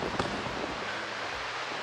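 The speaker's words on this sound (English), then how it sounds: "it has been stupid windy all night long" Strong wind on the beach at Padre Island National Seashore buffets the microphone in a steady broadband roar, with a few heavier gusts early on and no voices.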